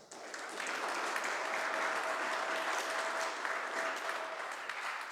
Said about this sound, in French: Alors, on peut s'applaudir nous-mêmes.